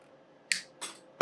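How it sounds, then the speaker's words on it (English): Wire cutters snip wire while rigging an urchin-style fishing bait, three sharp, close clicks spaced about a third of a second apart over near silence, the last the loudest. "I'm going to snip that off. I got some wire cutters right here."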